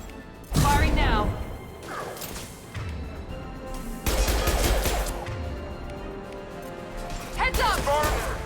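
Gunfire in the video game Mass Effect 2 Legendary Edition, loud bursts in three clusters amid game effects, with a voice briefly heard over the action.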